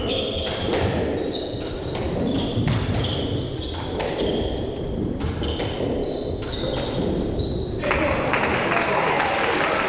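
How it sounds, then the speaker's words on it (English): A crowd at a tournament match cheers and applauds after a nice shot, a sustained roar of voices and clapping with sharp percussive knocks and thuds breaking through, loud and close throughout. "of course the crowd goes crazy"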